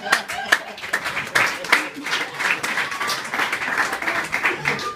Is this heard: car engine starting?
no